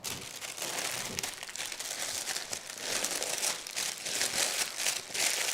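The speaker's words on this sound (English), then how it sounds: "and then I'm going to wrap them in parchment paper" Parchment paper crinkling and rustling continuously as discs of dough are wrapped by hand in a kitchen, close and fairly soft, with no voices.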